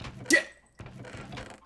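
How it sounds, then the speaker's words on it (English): A short, sharp burp erupts near the start in a Minecraft survival session, loud and close, followed after a brief pause by a murmur of voices and background noise. "A burp!"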